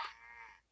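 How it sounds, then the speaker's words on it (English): A single short, bright moo from a cow in the video game SurvivalCraft, clean and brief, fading out at the end. "We're down here with the cows."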